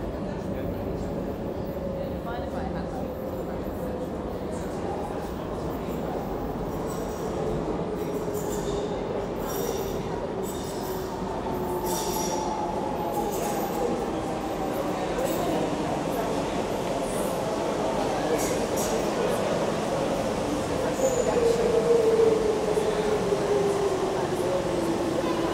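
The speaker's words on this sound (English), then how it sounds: "Seems pretty like a pretty smooth running train." A Docklands Light Railway train in London runs smoothly with a steady, continuous rumble and a faint rising whine near the end, loud and close throughout.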